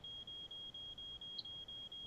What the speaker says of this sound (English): What does smoke detector do?